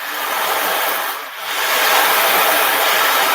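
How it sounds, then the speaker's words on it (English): A steady, rushing wash of noise from an ocean drum, like surf rolling over sand, dipping briefly in the middle before swelling back up, close and continuous. "the other one is called the ocean drum."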